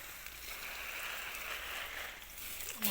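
Water gushes from a garden hose tap in a steady, fairly faint hiss that runs unbroken for a few seconds before a brief louder splash at the end.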